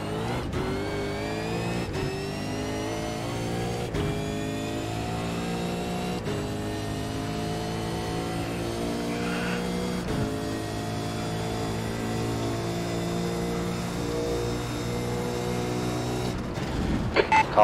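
Race cars lap the Montreal circuit in a sim racing game, with a continuous, loud engine drone that climbs and drops through gear shifts. Brief clicks and a few sharp bursts come near the end.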